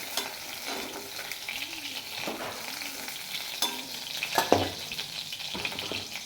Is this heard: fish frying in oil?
yes